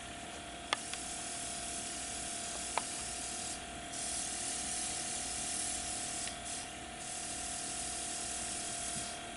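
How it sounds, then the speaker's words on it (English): A paint spray gun blows a steady hiss of air to dry fresh paint, a constant close airflow broken by a couple of sharp clicks and a few brief louder bursts. "I'm letting that dry with the air that's coming out of the gun"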